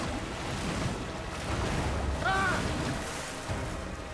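Sloshing, splashing water in a sewage-filled septic tank area of the horror game The Callisto Protocol, a steady broadband wash that swells in the middle, with a brief tonal chirp over it.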